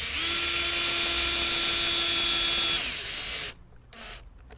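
A power drill drives a screw into the wooden joint of a Vegtrug planter, one steady high whine running about three seconds before stopping, then a brief softer tool noise after.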